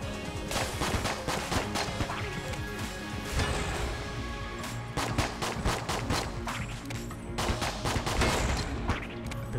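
Rapid bursts of gunfire crackle in dense volleys with brief gaps, loud and continuous, like automatic weapons in an Enter the Gungeon firefight.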